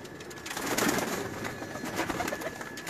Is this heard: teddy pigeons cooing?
yes